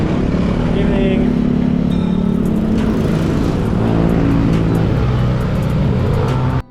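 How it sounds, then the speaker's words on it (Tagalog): Steady traffic rumbling along a road at night, cars passing one after another in a loud continuous wash of engine and tyre noise with no break. "maraming sasakyang dumaraan dito"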